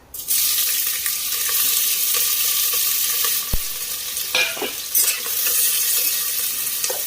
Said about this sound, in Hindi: अब इसमें प्याज डालेंगे।